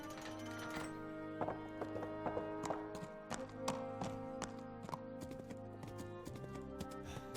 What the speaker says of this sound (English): That horse has done brilliantly.